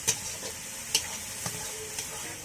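Spice paste of chili powder and turmeric frying with chopped tomato in a pan, a faint steady sizzle with a few soft stirring scrapes, quiet and close, no speech.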